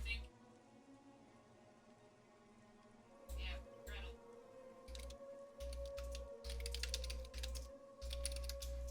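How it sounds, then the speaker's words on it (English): Computer keyboard typing during an online game session, quiet clusters of keystrokes in irregular bursts after a calm opening, close to the microphone with a low background hum. "Typing to them now"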